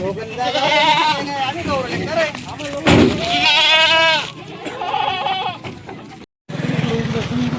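Several goats, pregnant does kept on a small farm, bleat in repeated wavering calls, close by and fairly loud, overlapping with someone talking.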